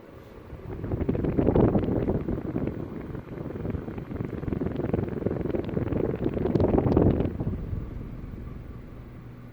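An Emerson North Wind ceiling fan with a slight wobble runs on high speed, giving a steady, close whooshing rush of moving air that swells and eases slightly, with no talk.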